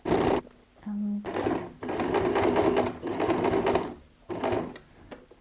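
A sewing machine stitches a quilted cross-body messenger bag in several bursts of rapid mechanical whirring, separated by brief pauses, with someone talking over it.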